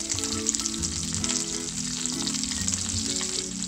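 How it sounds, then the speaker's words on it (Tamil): Small onions and garlic frying in oil in a pan for a lentil-ball curry, giving a dense, steady, close sizzle that holds evenly throughout with faint stirring and no voices. "இப்போ இந்த வெங்காயமும் பூண்டும் நல்லா வதங்கட்டும்."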